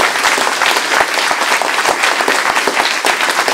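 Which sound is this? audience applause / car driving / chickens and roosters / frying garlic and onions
audience applause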